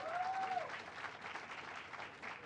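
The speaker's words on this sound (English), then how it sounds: "Let's give them a round of applause as well." A government housing announcement audience applauds for a few seconds, steady clapping at moderate loudness with no voices over it.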